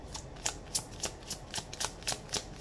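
A new tarot card deck being shuffled, a quick series of about ten crisp, papery riffling flicks in a steady rhythm, close and fairly quiet, with no voices.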